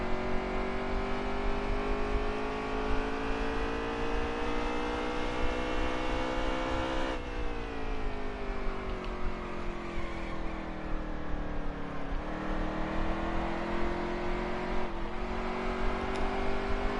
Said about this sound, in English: I just hear one loud like engine roar.